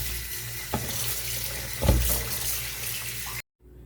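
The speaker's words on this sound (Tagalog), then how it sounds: "ito na at huhugasan natin ulit para talagang malinis." Tap water runs steadily over mussels being rinsed in a sink, a constant close rush with a couple of brief splashes before the flow cuts off abruptly near the end.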